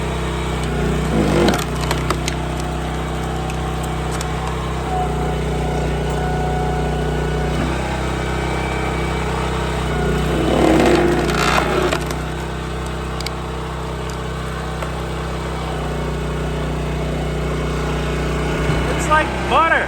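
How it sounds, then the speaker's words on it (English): A log splitter's engine runs steadily as the wedge pushes through big, knotty ash rounds, with wood creaking and splintering over the constant drone. There is some talk nearby. "I'm going to give you guys a chance to hear the wedge work through this."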